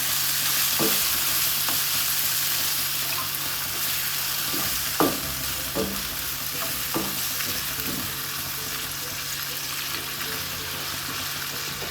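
Tomato masala for a cabbage curry bubbles in a pan after water is added, a steady hiss punctuated by a few sharp spoon taps and stirring sounds.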